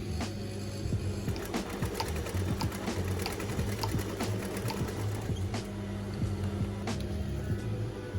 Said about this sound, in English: Stitch the ends of the elastic.